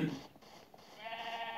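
A single sheep gives a short, close bleat with a wavering, nasal tone that swells toward the end.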